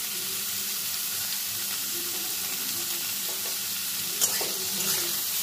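Potatoes and onions stir-frying with salt and turmeric in a pan, a steady close sizzle with soft scraping of a spatula and a couple of sharper clinks near the end.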